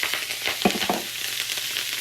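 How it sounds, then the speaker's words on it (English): Loud, steady sizzling and crackling of wet Brussels sprouts frying in a hot pan, continuous with small pops throughout. "It's sizzling that way because there was water in the bowl."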